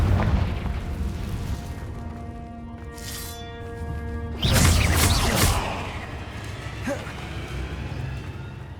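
A Confringo blasting spell explodes in the Hogwarts Legacy game, a sudden loud burst and rumble that follows a ringing tonal cast and then decays amid game ambience.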